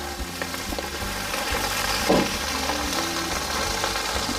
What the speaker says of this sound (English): so our viewers can hear that sizzle